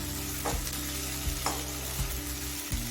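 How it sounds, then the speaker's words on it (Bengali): Chicken sizzles steadily in a pan over a medium flame for an egg chicken tarka, with a few soft stirring scrapes breaking through the constant frying hiss. "চিকেনটা দিয়ে মিডিয়াম ফ্লেমে পাঁচ ছ মিনিট কষিয়ে নিয়েছি"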